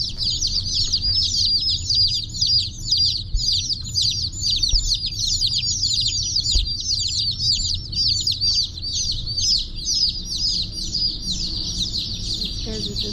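Baby chicks in a brooder chirp constantly, a dense, overlapping flurry of high peeps that goes on without pause, close by, over a low background rumble.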